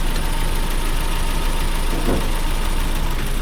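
Steady, loud four-cylinder Proton Wira engine idling with an even, continuous rumble and hum, heard up close with no talking.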